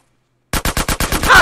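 Rapid burst of about seven gunshots from a video game, GTA San Andreas Definitive Edition, sounding close and loud after a moment of silence, with no talking.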